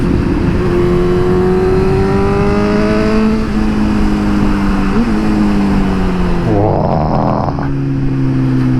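A Suzuki GSX-S 750 motorcycle accelerates hard in second gear, its engine note rising steadily in a loud, close howl, then dipping briefly and climbing again, with wind rush throughout.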